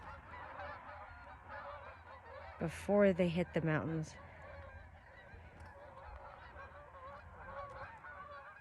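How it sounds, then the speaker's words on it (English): A flock of geese honks overhead across open plains in the San Luis Valley, a burst of loud overlapping calls for about a second and a half amid steady outdoor background, with brief talk around it. "I heard these geese"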